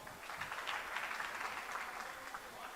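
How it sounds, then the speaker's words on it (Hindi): Steady, fairly close applause from an audience at a science research seminar, sustained through the whole stretch without breaks. "सर के लिए जोरदार तालियां।"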